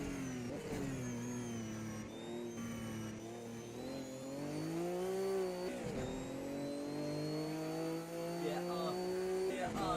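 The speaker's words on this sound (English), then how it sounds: "Look at the power of that Corvette of Cuckoo. He's just pulling away down this straight." A Corvette race car powers down a straight during a circuit race, its engine rising in a loud, sustained revving pitch across the clip while commentators talk over it.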